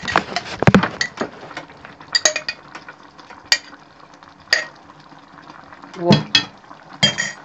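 Spaghetti gets stirred in a pot with a utensil, a series of close scraping and clacking strokes in irregular bursts, with occasional brief talk.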